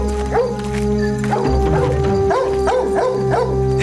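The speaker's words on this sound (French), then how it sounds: "Pourquoi ce chien aboie-t-il?" A dog barks repeatedly in a tense night scene of a 1995 drama series, a rapid run of sharp barks over a steady musical score, fairly close and prominent.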